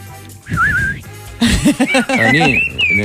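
A blackbird's song is imitated by human whistling in rising and falling melodic phrases, loud and close. Chuckling and a voice come in between the whistled runs.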